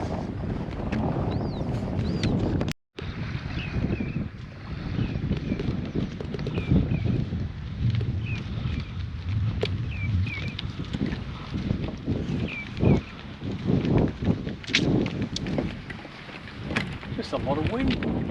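Strong wind buffets the microphone on a pier at the Point on Marion Bay, a constant heavy rushing roar with gusty swells and brief rattles throughout, recorded outdoors.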